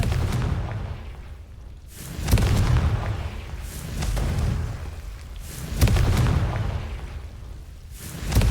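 Spell explosions from Confringo in Hogwarts Legacy, as a series of deep booming blasts that repeat roughly every few seconds, each rolling into a rumbling tail at moderate loudness.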